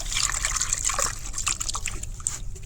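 Mangoes and ginger being washed in water for a mango pickle, close splashing, trickling and sloshing as they are rinsed by hand, continuous and fairly loud with no talking.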